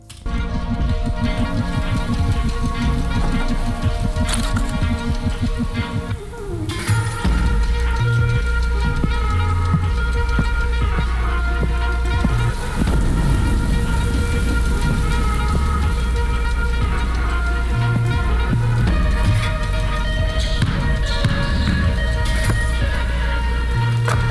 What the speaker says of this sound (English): I used thunderstorms from like thunderstorm sound effects